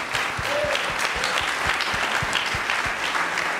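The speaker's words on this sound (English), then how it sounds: "Let's give her a little round of applause there." Audience applause fills a breakout session at a climate storytelling conference, a steady, dense wash of clapping from a crowd that carries on evenly throughout.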